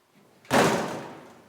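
A door shut with a single firm slam near the top of a staircase, a loud close thud that decays briefly into room echo.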